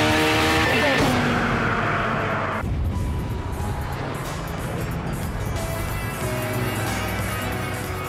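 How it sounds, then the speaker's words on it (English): A Caparo T1 sports car snakes for grip on the road, its engine roaring loud and close in a sustained, shifting howl with a sudden change in tone partway through. "Look at it snaking, fighting for grip that just isn't there."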